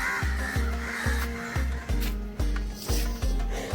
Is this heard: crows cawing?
yes